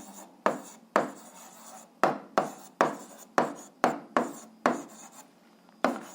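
Pen strokes writing out a solution to an algebra equation on paper, about a dozen short, sharp scratches in an irregular rhythm, close and alone.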